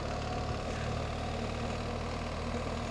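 A motorcycle engine idles steadily at a border crossing between Hungary and Romania, a continuous loud rumble with constant vibration filling the whole stretch, no voices over it.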